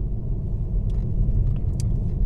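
A Volkswagen electric car cruises along the snowy E8 road near Nordkjosbotn, Norway, at about 70 km/h, giving a steady low road-and-tyre rumble with faint, brief higher ticks and no talking.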